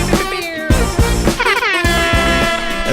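A voice imitates a loud air horn, blaring several sustained, wavering honks in quick succession, close to the microphone.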